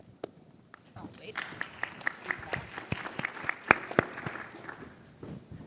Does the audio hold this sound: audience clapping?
yes